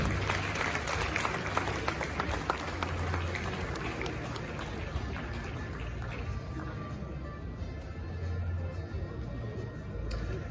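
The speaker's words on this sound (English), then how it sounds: "Can we keep the applause going, ladies and gentlemen?" A crowd claps continuously at the 29th GJA Awards ceremony at Manhyia, Ghana, greeting the Acting Chief Justice, a broad, even wash of applause that holds steady for about ten seconds and thins slightly near the end.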